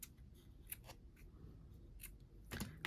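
Scissors snip crochet yarn during amigurumi work: a few crisp, close cuts, with a sharp double snip near the end over quiet room tone.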